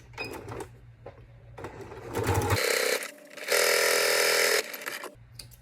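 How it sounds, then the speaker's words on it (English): A sewing machine stitching the pieces of a micro bag keychain runs in several short bursts of rapid mechanical whirring, with one longer steady run, broken by pauses and clicks of fabric handling nearby. "you sew these things together so that they don't shift when you're putting the bag together"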